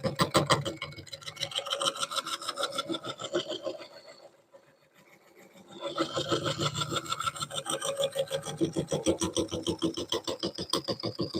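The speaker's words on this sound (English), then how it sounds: "Maybe my negative rake scraper here might help a little bit with this. Take some of that roughness off." A negative rake scraper rasps across spinning wood on a lathe during bowl turning, making a close, rhythmic scratchy rubbing that fades briefly to near quiet midway, then resumes just as steadily.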